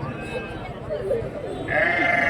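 Young goats bleating at the Kundarapalli livestock market, a few short bleats rising over busy crowd chatter, with people talking nearby throughout.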